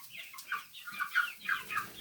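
Black Australorp layer chickens cluck in a quick series of short, rhythmic calls, close by and moderately quiet, with no talking.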